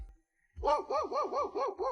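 A dog barks repeatedly at visitors near a remote mountain-top house in the deep hills of Yunnan, a rapid run of about six loud, close barks in a steady rhythm after a brief silence.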